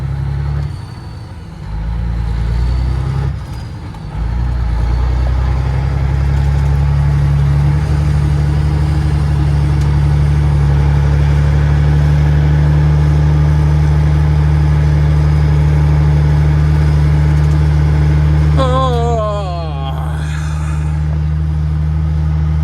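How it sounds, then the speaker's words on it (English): A semi truck engine idles close by in a steady, loud, low rumble with a constant drone that continues throughout, alone without talk. "Y'all want to listen to my truck to close out the video today?"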